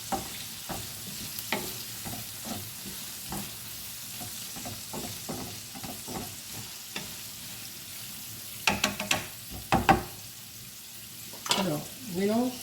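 Garlic stir-fried with a cabbage and carrot mix for shrimp noodles: scattered soft sizzles and scraping utensil strokes in the pan, with a few sharper clattering bursts toward the end.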